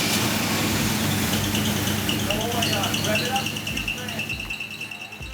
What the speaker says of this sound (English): the engine just started all on its own